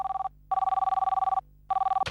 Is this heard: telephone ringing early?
yes